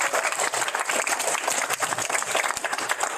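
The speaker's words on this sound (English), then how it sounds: "Let's give him a round of applause." A crowd at a check presentation ceremony in Guam applauds the Acting Governor, a continuous, moderately loud patter of many clapping hands with no one speaking.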